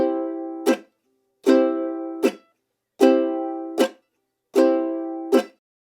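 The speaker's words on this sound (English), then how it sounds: "we have a normal down strum on the first and third beat of the bar and the chuck on beats 2 and 4" A ukulele plays a down-chuck pattern, four slow cycles of a ringing down strum followed by a short muted chuck on beats 2 and 4, with no upstrokes, close and alone.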